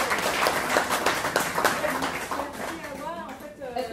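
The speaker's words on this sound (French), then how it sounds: "Donc on l'applaudit." An audience at an International Women's Day event claps for the deputy mayor, with scattered applause mixed with chatter and a voice speaking over it toward the end.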